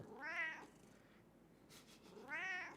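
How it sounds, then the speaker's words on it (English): An annoyed cat lets out two drawn-out, complaining meows with a quiet pause between them, close and fairly loud, with no talking. "this is my cat who is now annoyed"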